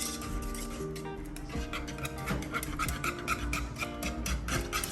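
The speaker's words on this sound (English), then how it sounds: "And then you whisk it in" Butter, 114 grams, being whisked into cooked, thickened vegan pastry cream, giving a steady scraping, rasping rhythm of a whisk against the bowl with light metallic clinks, close up, with no talking.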